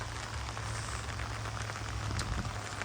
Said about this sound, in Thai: บรรยากาศฝนตกเด้อพี่น้อง